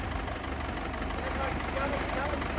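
A farm tractor engine idling as it is moved back slightly for loading grain, a steady low rumble that stays continuous and fairly loud throughout.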